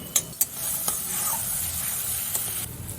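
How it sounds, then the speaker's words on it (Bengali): Ground onion, garlic and spices frying in a pan over a medium flame for an egg and jackfruit seed curry, heard as a soft continuous sizzle with a few sharp clicks of a utensil against the pan, close but quiet. "এবার মিডিয়াম ফ্লেমে আমি পেঁয়াজ এবং সমস্ত মশলা খুব ভালো করে ভেজে নেব।"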